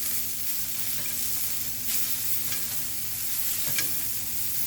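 A boneless prime strip steak sizzles steadily in a pan while being basted with its own rendered fat, a close, continuous frying hiss dotted with a few brief crackles and spatters.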